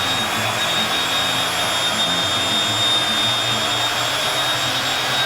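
A Porter Cable belt sander works across a wooden tabletop, a loud constant whirring roar with a high whine that holds steady throughout, close by and with no talking.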